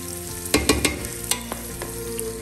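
Hawaij spice blend tipped into a hot pan while cooking Somali rice (bariis), setting off a steady sizzle with a few sharp clacks of a spoon on the pan, close and alone with no voices.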